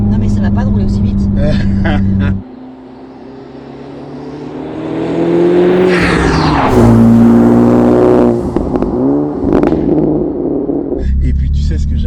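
A Honda Civic Type R FK2 with a turbocharged VTEC engine idles low, then revs up with rising intake and engine tones, holding high before dropping back to a deep idle, loud and close.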